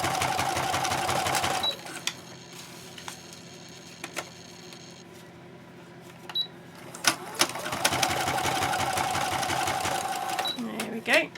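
A sewing machine stitching matchbook craft items in one continuous line, its fast rhythmic whirring clatter running in bursts with pauses between, loud and close.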